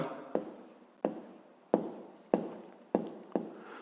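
Pen strokes writing out a fifth-grade maths solution on paper: six sharp taps or stroke onsets, each trailing into a soft scratchy scrawl, close and steady with no talking.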